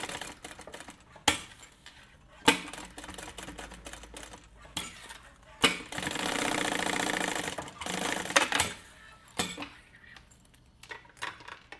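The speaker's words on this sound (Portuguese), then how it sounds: "E eu só faço uma costurinha aqui para segurar o forro no lugar" A sewing machine stitches a lining in place for a bag in short runs of rapid mechanical clatter, with a longer steady burst in the middle, broken up by clicks and handling noises close by.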